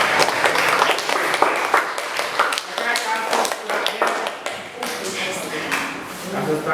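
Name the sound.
classroom children clapping hands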